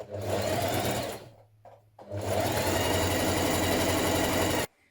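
A sewing machine stitches fitted dress pieces in two runs, a close steady motor whir that pauses briefly, restarts and stops cleanly.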